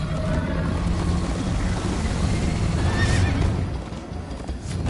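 A horse in the video game Minecraft Story Mode whinnies loudly amid rapid galloping hoofbeats, a continuous close clatter with no talk over it.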